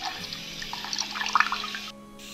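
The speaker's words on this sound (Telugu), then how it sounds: "ఈ విధంగా కొన్ని వాటర్ పోసుకొని కలుపుకోండి" Water poured into a rice flour mixture being prepared for coconut milk rasam, a short close trickling splash that stops after about two seconds.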